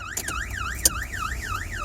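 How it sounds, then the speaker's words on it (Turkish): A parked car's alarm whoops up and down in a steady repeating wail, fairly close, with a brief sharp click partway through. "Alarm çalışıyor oğlum arabanın."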